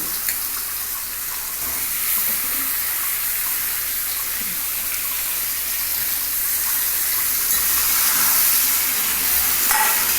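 Steady, loud hissing sizzle of chicken pieces cooking in a hot pan, broad and continuous with little variation, heard close up without talk.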